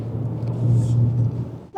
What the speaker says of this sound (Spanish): Ok, inmediatamente la respuesta del motor. Hay cierto turbo lag,